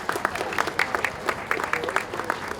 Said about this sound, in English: How about a nice round of applause, ladies and gentlemen, for Rosie the Riveters.